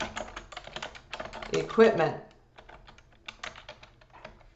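Rapid clattering keystrokes on a computer keyboard come in fast bursts, close and fairly loud, briefly pausing before lighter typing resumes, while a person speaks a word.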